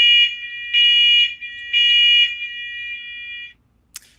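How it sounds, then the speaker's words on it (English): A fire alarm goes off during a test, sounding three loud, steady electronic tone bursts separated by brief gaps, then trailing off, followed by a short click. "Alec has some alarms going off"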